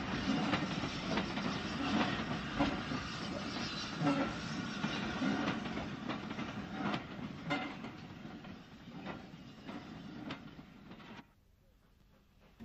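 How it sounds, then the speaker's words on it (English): A steam tank engine works hard hauling a push-pull train up a steeply graded branch line, giving a steady loud rumble and hiss with rhythmic wheel clatter that runs continuously, then cuts off abruptly near the end. "the tank engine had to work hard on their push-pull trains"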